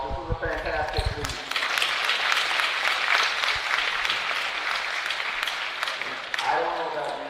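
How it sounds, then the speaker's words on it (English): A crowd at a college track and field conference championship breaks into loud sustained applause and cheering in an echoing indoor venue, with someone speaking over a PA at the start and end. "give each other a round of applause"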